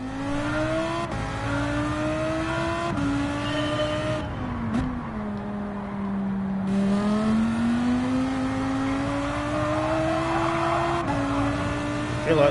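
Lamborghini GT3 race car in Gran Turismo 7 at the Dragon Trail Seaside track, its engine note climbing and dropping through gear changes over twelve seconds, loud and close with steady revving throughout.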